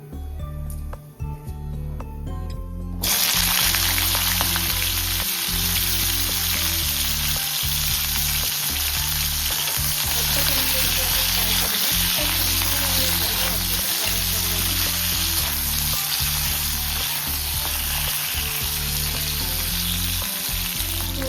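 Spices crackle and sizzle in hot oil for an Odia-style potato besara, a steady loud frying hiss with a low rhythmic rumble beneath, starting after a quieter opening few seconds.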